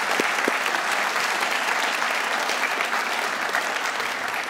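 A large audience at a senior awards night gives a sustained round of applause, with dense, even clapping filling the hall throughout and no speech over it.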